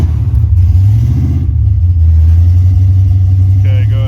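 A car engine holds a steady mid-range rev against a DIY rev limiter, a continuous loud drone with slight pitch shifts and a brief higher tone near the end.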